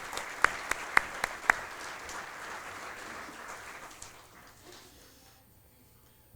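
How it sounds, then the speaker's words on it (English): Audience applause at a fire and emergency services badging ceremony, a moderate crowd clapping with a few sharp claps early, then fading out to quiet. "we could give them a round of applause regardless."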